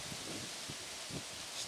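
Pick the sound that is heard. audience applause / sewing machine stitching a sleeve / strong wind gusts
strong wind gusts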